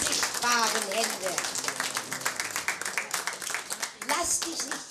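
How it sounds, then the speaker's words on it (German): An audience at a ballroom event claps together in a dense burst of applause, fairly close, with voices speaking over and around the clapping. "Und einen Applaus an die Technik und an die Deko"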